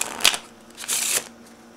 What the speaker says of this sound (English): give the deck a quick shuffle